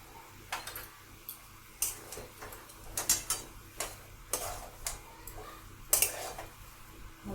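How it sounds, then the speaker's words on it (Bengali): Chicken sandwich filling with garam masala being stirred in a pan, a run of irregular spoon clicks and scrapes against metal, moderately close, over a quiet hum with no talking. "এবার এতে আমি সামান্য গরম মশলা দিয়ে মিশিয়ে নেব"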